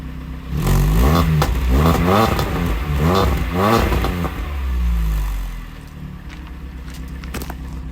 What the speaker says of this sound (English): I think it's safe to say the car sounds pretty nice now as well.